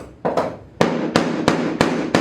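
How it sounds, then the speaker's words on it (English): A hammer strikes a microcement coating in a hammer test, landing six sharp, loud knocks close by at an uneven rhythm, each a hard crack with a quick decay. "I'll do the hammer test."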